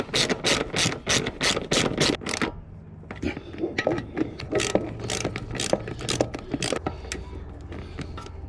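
A socket ratchet with a 10mm socket tightens a bolt while a Kemimoto rear rack for a TW200 is assembled. Rapid, loud ratchet clicking comes in bursts, then a pause and more uneven clicking and handling noise close by.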